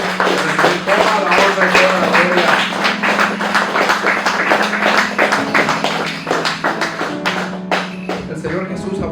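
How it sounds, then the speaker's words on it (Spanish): A church congregation bursts into steady, loud rhythmic clapping that continues for several seconds while someone speaks over it. "Denle un fuerte aplauso al Señor Jesús"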